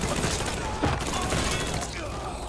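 Rapid gunfire from a Mafia 3 shootout rattles in a dense, continuous burst, with a louder crack near the one-second mark, all at close range and sustained throughout.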